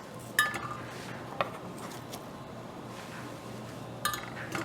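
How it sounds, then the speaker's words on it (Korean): Light metallic clinks and taps as tongs drop fruit into a metal pot while making vin chaud, a few sharp separate contacts over a quiet room background and no talking. "집게를 이용해서 먼저 과일을 냄비 안에 넣도록 하겠습니다."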